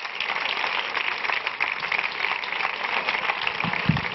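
Audience applause for Paco, a volunteer called up at a live comedy show, a steady even patter of many hands clapping throughout, with a couple of low thumps near the end.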